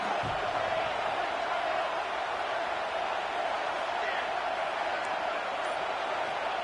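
A home crowd at a college football game roars as the defense tries to get off the field on third down, a dense, steady stadium din filling the whole stretch without letup.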